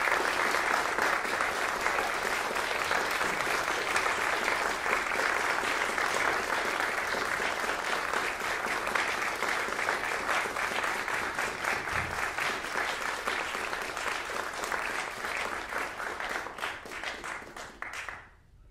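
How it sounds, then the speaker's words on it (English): A concert audience applauds to welcome a Turkish oud master, dense and sustained clapping at full strength for most of the stretch, thinning slightly before fading out at the end. "Please give a huge round of applause."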